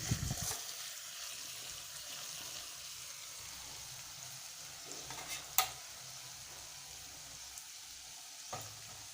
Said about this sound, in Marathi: आता कूट शेंगदाण्याचा व्यवस्थित मिक्स करून घ्यायचं आहे